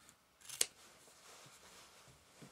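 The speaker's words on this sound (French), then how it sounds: "Je coupe l'excès de tissu." Scissors snip through excess upholstery fabric in a quiet sewing workshop, one sharp close cut followed by faint rustling.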